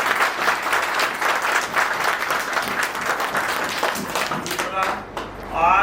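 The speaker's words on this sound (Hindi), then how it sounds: "इसलिए मैं चाहूँगा कि एक बार जोरदार ताली" Loud, dense audience applause at a retirement function, continuous clapping from a large crowd for several seconds before tapering off near the end.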